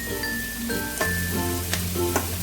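Vegetables stir-fry with chicken, egg and shrimp for mixed fried rice, a continuous loud sizzle over a steady hum, with a few sharp utensil clanks and no voices.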